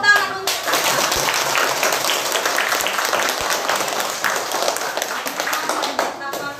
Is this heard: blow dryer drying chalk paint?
no